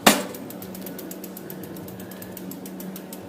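Bicycle cranks turning to pop the new chain's power links into place, one sharp click at the start followed by a steady, faint ratcheting tick of the freewheel, close and without talk.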